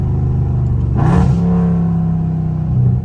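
A Dodge Charger Scat Pack's V8 rumbles at close range, then surges in a brief loud rev before settling into a steady, droning acceleration.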